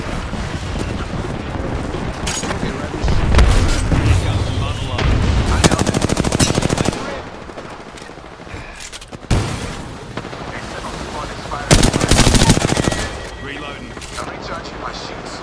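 Gunfire from the video game Fuse: loud, sustained machine-gun bursts and heavy booming shots in rapid clusters, easing in the middle before another intense volley, with game voices briefly underneath.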